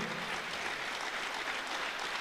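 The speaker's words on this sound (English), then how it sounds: "I want us all to give him a round of applause" Award ceremony crowd at an annual staff retreat breaking into applause, a dense, even stretch of clapping that fills the whole moment without any talking.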